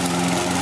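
Ride-on lawn mower engine running steadily on grass, a loud, close, continuous drone with a constant hum and no talk over it.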